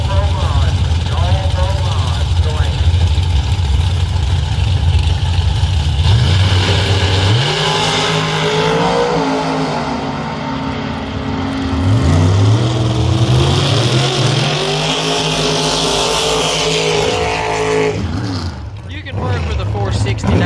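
Outlaw 4.70 door cars launching down the strip at London Dragway during qualifying, loud engines roaring and pitching up through gear changes, with a commentator talking over the noise.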